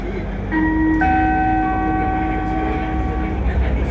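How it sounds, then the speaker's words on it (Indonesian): A Jakarta LRT train slows on a curved track near a crossing, its worn wheels squealing in sustained high, ringing tones over a loud, continuous rolling rumble heard from inside the car. "Kecepatan LRT melambat karena jalur lengkung dan ada persilangan."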